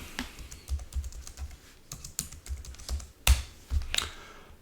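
Quick, uneven clicks of fingers typing a password on a computer keyboard at a remote login prompt, close and fairly quiet, with brief pauses and a couple of sharper keystrokes near the end.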